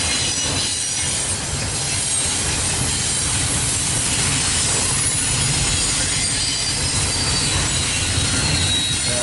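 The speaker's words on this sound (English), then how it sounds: "DPO right at the back of the train" Freight train with a DPU locomotive at the rear rolling steadily past, railcars rumbling with continuous wheel noise, high squeals and a faint hiss, loud and close throughout with no voices.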